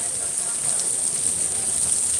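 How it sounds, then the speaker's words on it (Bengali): Heavy rain falls steadily at an open-air religious gathering under a large marquee full of chairs, a dense continuous hiss filling the short stretch without a break. "প্রচুর বৃষ্টি হচ্ছে"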